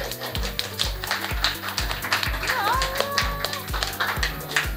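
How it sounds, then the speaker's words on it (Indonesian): Small group clapping hands at a casual birthday gathering, a steady rhythmic series of close, fairly loud claps with people talking and a voice briefly singing or calling out over them. "Tepuk tangan dong."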